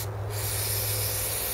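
Super Tech carburetor cleaner sprays into the carburetor of a 1975 Suzuki RL 250, a short steady hiss close by that runs through the whole moment after a brief quieter start.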